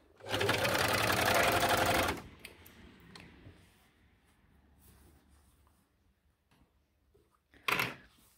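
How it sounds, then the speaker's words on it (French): An overlock serger sewing machine stitches elastic onto fabric in one loud, fast, buzzing run of about two seconds. Quiet handling noises follow, then a very short second burst of stitching near the end. "mon élastique est posé à la surfileuse"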